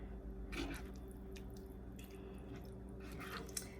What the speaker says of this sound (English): I'm just gonna add in the gnocchi